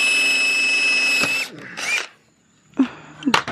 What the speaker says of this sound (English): One-handed drill?